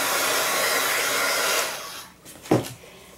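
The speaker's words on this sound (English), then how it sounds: "Let me just do a quick dry with this." A hair dryer blows steadily and loudly at close range for a quick dry, then cuts off, followed by a brief knock and quiet room tone.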